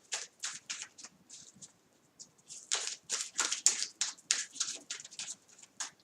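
Close, quiet card shuffling: a series of quick papery riffles and flicks in irregular bursts, with no talking.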